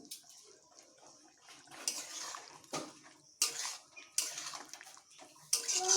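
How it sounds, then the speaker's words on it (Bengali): Sugar is stirred into a boiling pot, with a spoon scraping and clinking against the vessel in uneven bursts over a bubbling, watery background, close and moderately loud, with no voices. "চিনি দেবার পরে একটু ভালোভাবে মিশিয়ে নিচ্ছি"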